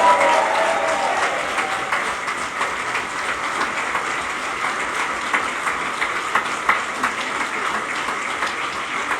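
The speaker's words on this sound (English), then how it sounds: "A big round of applause to the leader of Advance UK" Audience applause for Ben Habib, leader of Advance UK, at a speech in Manchester, a steady wash of many hands clapping at moderate distance, holding an even level throughout.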